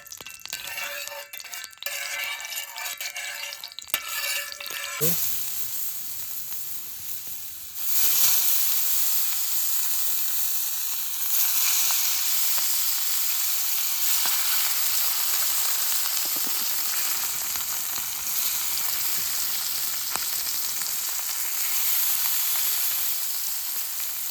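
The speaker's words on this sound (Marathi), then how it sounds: "इकडे मासे मस्त आपले फ्राय होत आहेत." Fish frying in oil on a griddle pan at a night campsite, a continuous loud sizzle and hiss that swells after a brief quieter start and carries on steadily throughout.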